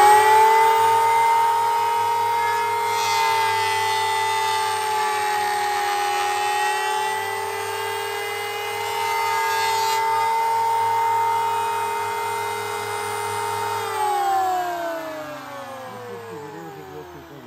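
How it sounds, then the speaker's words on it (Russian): A machine tool hums steadily with a high whine and low motor drone, running continuously and close by, shifting pitch slightly near the end. "Включаем станок."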